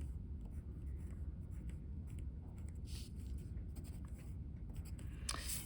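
A pen drawing a dashed line on paper, soft scratchy strokes in a quiet room, faint and close, with a few brief louder scrapes near the end.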